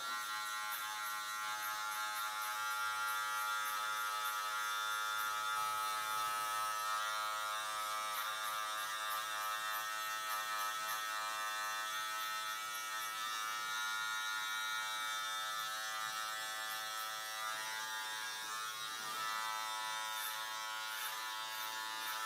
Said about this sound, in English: we're gonna put the clipper in the open position